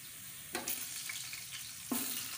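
Chicken pieces fry in a pan with browned onions, giving a steady, close, hissing sizzle that swells briefly twice as food is stirred or shifted, with no voices.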